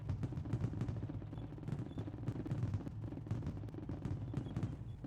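Firecrackers go off in the Indian Vehicles Simulator game, a dense run of rapid crackling pops and bangs that rattle on continuously like a string of crackers, with no pause.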